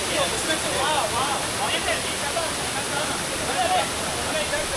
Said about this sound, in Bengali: ফলসটা ঠিক এখান দিয়ে নামছে